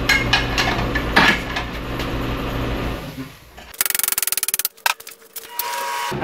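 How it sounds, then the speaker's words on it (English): Metal-on-metal pry bar work on a Toyota Camry 2.5L transmission axle: a rapid burst of sharp clanking taps mid-clip, then a few scattered knocks, preceded by a steady mechanical rumble. "I'm just going to get in here with a pry bar and try to pull down on this"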